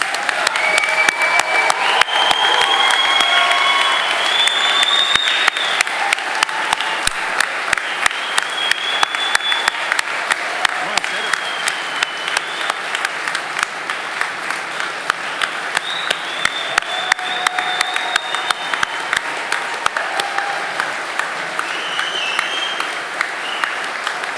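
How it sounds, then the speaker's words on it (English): An audience at a graduation ceremony gives sustained applause for the graduates. Many hands clap continuously for over twenty seconds as a crisp, crowded roar, with a few faint whoops scattered through it. "Please give a round of applause for all of our graduates."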